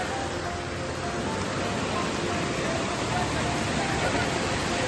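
A village waterfall roars in a steady, dense broadband wash with no breaks, loud and close, filling the whole stretch without any voices.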